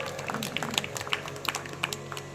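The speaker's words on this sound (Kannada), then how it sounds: "ಚಪ್ಪಾಳೆ ಹೊಡ್ರಿ, ಚಪ್ಪಾಳೆ ಹೊಡ್ರಿ" Thin, scattered hand claps from an audience at a Kannada religious discourse, light and uneven beneath a steady background hum, with no strong unified applause.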